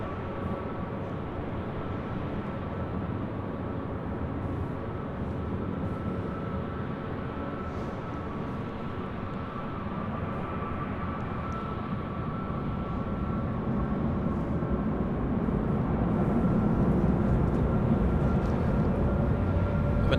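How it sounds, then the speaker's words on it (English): A Delta A321 airliner arriving at LAX from SFO, a continuous distant jet roar that grows steadily louder over the last few seconds, with no talking. "A321 coming in from SFO, flight 2606. It's our next arrival here on the north side."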